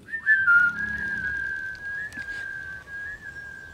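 A person whistling a sustained, slightly wavering single tone that bends briefly near the start, then holds clear and steady, close and prominent over faint background noise.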